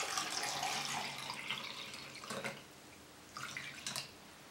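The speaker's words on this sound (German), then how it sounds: "Jetzt müssen wir mit Wasser füllen." Tap water pours into a carafe in a home kitchen as a steady, fairly quiet hiss that fades after a couple of seconds. A brief splashing burst follows near the end.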